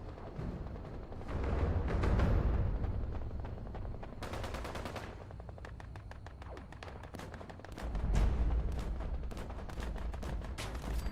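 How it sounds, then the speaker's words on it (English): Missile launches and rapid automatic fire from turrets in Fallout 76, a dense barrage of repeated bursts and heavy thumps rolling on for about eleven seconds with two louder surges, no talk over it. "Fire the missiles"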